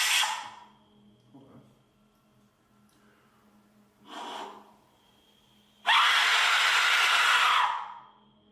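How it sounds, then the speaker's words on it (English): An Aztec death whistle lets out a harsh, rushing shriek lasting nearly two seconds, loud and close, after a few softer breathy hisses and a brief tap earlier on. "now it's time for a scream with an Aztec whistle."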